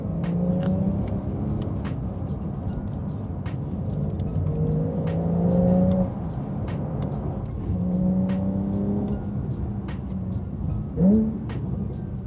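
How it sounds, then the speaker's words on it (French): Porsche 911 Carrera 4 GTS engine in Sport Plus mode with automatic rev-matching on downshifts, a steady close rumble rising and falling through gear changes with a brief sharp blip near the end, no talking. "Donc mode sport plus, le moteur est encore plus réactif."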